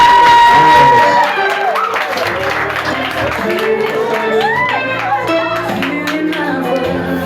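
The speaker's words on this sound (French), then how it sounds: "Applaudis, mesdames, messieurs." Applause and cheering from the congregation at a church wedding ceremony, clapping mixed with voices and music-like tones, fairly close and sustained.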